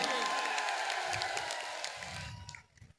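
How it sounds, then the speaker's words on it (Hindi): A crowd at a political rally for a nomination filing applauds and cheers to welcome a speaker, with a dense clapping wash that fades out over a few seconds. "तालियों से स्वागत कीजिए।"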